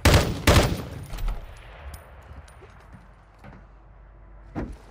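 Loud gunfire in Call of Duty DMZ: a couple of heavy bursts up front, then scattered single shots fading into quieter distant pops, with one more shot near the end.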